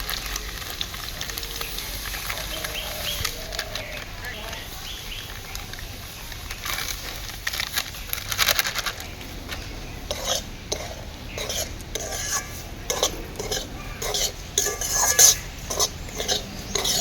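Semolina being stirred in a pan over lightly fried onions to make suji upma: a soft steady sizzle under repeated scraping and clinking of a utensil, becoming more rhythmic in the second half.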